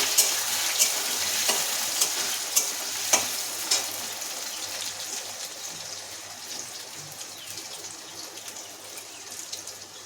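Boiled potatoes with cumin sizzle and fry steadily in a pan, a soft continuous crackle punctuated by a few sharp pops and stirring clinks near the start.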